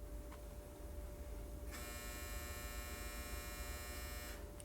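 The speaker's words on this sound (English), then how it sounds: "That's my dryer. Thought I turned off the buzzer, but apparently not." A clothes dryer's buzzer sounds one sustained, steady electronic buzz for about three seconds over a low mains hum in a quiet room, fairly faint and without talk.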